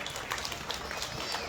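An audience at a religious gathering for Baba Balia ji Maharaj in Kolkata applauds, with dense, steady clapping that stays fairly faint and distant throughout, with a crowd murmur underneath.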